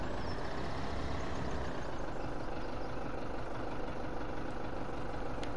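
A tractor engine idles in Farming Simulator 17, a steady low rumbling drone that holds constant and fairly loud with no speech over it.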